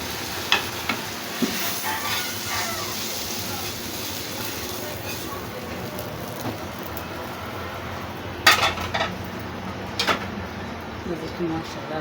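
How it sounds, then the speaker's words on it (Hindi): Ghee tempering poured into creamy makhani chicken in a kadhai, sizzling steadily while a spoon stirs, with a couple of sharp metallic clinks against the pan near the end. "अब तड़का लगाते हैं।"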